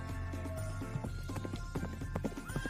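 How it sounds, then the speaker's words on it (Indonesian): Horse hooves clip-clop steadily with a whinny over ambient background, a large strong horse moving at a walk, moderately near and fairly quiet, no talking. "Kuda yang gagah, tampan, dan bertubuh besar dan kuat."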